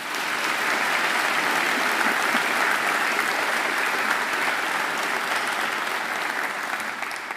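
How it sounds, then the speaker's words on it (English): Sustained, even applause fills the hall at a Macquarie University graduation ceremony, a broad, dense roar of many hands clapping without pause from start to finish. "I think she deserves another great round of applause."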